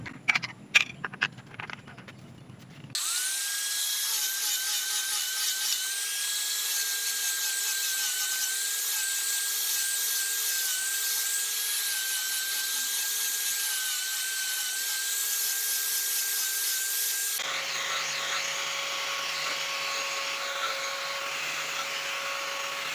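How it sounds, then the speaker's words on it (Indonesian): Sandpaper rubbed steadily over a PVC pipe machete sheath, a continuous close abrasive rasp lasting about twenty seconds after a few brief scrapes, its tone shifting slightly near the end. "Memakai amplas."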